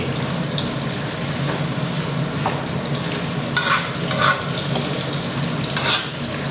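Pork strips fry in oil with garlic over medium heat, a steady close sizzle with occasional louder bursts and stirring scrapes, no voices.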